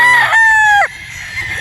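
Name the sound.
rooster crowing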